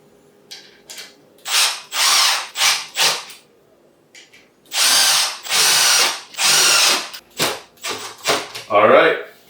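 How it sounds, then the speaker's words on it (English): A power drill drives screws tight on a homemade star-shaped cat wheel, running in a string of repeated short and longer whirring bursts separated by brief pauses, loud and close with no talking. "take your multi-tool or your drill and just tighten them all"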